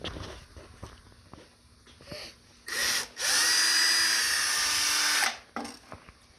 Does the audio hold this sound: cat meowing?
no